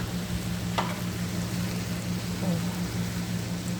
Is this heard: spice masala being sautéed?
yes